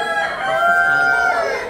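Rooster crowing with a long drawn-out call among chickens at a rural fair, loud and close, with fowl clucking faintly around it.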